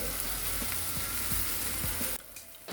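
Spinach (palak) paste frying in a pan with mutton masala for dhaba-style palak paneer, a loud dense sizzle with faint stirring taps that suddenly quietens near the end; no speech.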